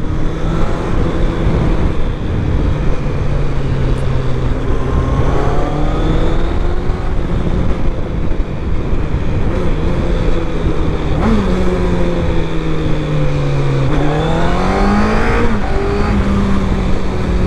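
A 2024 QJMotor SRK 800RR sport motorcycle engine drones loudly and continuously, its pitch climbing and dropping as the throttle opens and eases, with rushing wind underneath.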